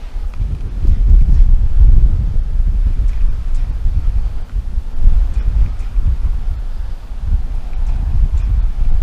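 Steady breeze blowing across an open lake during a fishing trip, a continuous low wind rumble with soft gusty swells and faint rustle throughout, no talking.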